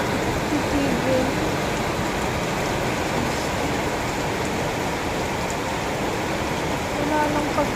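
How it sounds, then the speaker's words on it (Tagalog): Steady rain that will not let up, falling as a continuous, even hiss of drops on surfaces without pause or letup for the whole stretch. "patuloy pa rin ang pag-ulan dito sa amin. Hindi na yata titigil."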